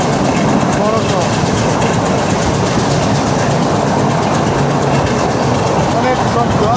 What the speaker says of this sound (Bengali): অনেক শব্দ ট্রেনে আমরা একদম ট্রেনের ইঞ্জিনের সাথে বগি সেই বগিতে আছে তার কারণে শব্দটা অনেক আরও বেশি